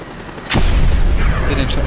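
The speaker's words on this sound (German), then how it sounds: "Hier fliegt ein Jet richtig heftig" A jet tears low overhead in the video game Just Cause 2 multiplayer: a loud roar that hits suddenly after a quieter moment and holds as a heavy, rumbling wash to the end.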